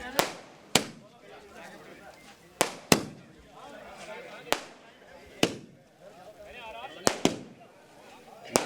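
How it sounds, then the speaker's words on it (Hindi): Fireworks and firecrackers at a street celebration of a Bengal election win outside a BJP office in Sitapur, with about ten sharp, loud bangs at irregular intervals over a steady crowd murmur. "जश्न मना रहे हैं, आतिशबाजी कर रहे हैं, नारे लगा रहे हैं।"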